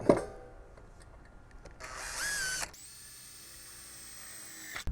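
A drill spins up briefly in a high whine drilling a pilot hole, then a long steady motor tone rings on after it, ending with a soft knock; close and fairly quiet.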